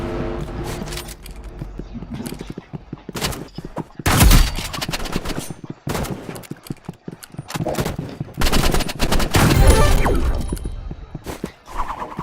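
Gunfire from a new weapon in the Roblox Rivals video game: bursts of rapid shots and single cracks come in loud clusters separated by brief lulls, with impact-like crashes mixed in.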